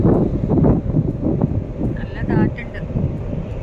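Wind buffets the microphone on the open upper deck of the Stena Superfast ferry on the way to Belfast, a steady rough rumble with gusty swells and a few faint tonal whistles partway through.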